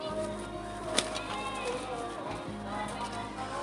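Pigeons coo softly in a loft, a low murmuring under a steady hum, with a brief clap of wings or a knock near the start.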